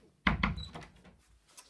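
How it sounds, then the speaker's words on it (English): A door closes in a room under renovation with dusty light fittings and peeling paint, giving two close thuds followed by a brief softer rattle, with no voices. "Just close the door."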